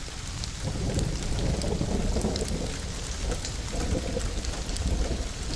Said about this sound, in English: The rain was really coming down hard now.